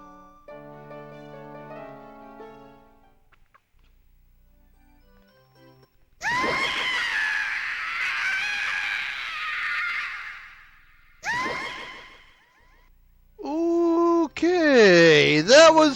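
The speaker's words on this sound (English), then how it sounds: "that was probably the most painful longest scream I've ever heard" A long, strained scream from The Legend of Zelda: Majora's Mask rises and wavers for several seconds, then repeats in shorter bursts, between stretches of tinkling game music and quiet.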